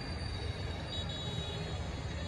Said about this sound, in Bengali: ট্রেন যায়